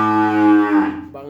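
A cow at a Bogura cattle market holding Jersey, Brahma and native breeds gives one loud, close, drawn-out moo lasting about a second before it fades away.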